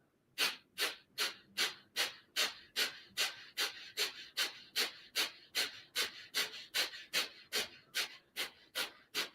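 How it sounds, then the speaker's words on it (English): Rapid forceful exhales in a seated chair yoga breathing exercise, about twenty sharp, evenly spaced breath pushes at a quick steady pace, close and loud, with no talking. "Remember, nice forceful exhale."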